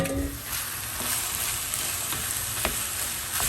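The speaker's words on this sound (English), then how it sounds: "next we're gonna add the leek and the zucchini in there. And fry that also, still on high heat" Leek and zucchini fry in a pan over high heat, a steady close sizzle with occasional crackles and a few light stirring clicks, with no one speaking.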